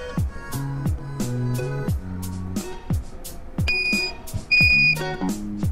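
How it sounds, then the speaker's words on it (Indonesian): Small buzzer on a Wemos D1 Mini sound sensor circuit gives a few short, sharp electronic beeps amid tonal notes and bursts of activity, with some brief sustained pitched tones near the end. "buzzer saya pasang lagi karena tadi berbunyi ya."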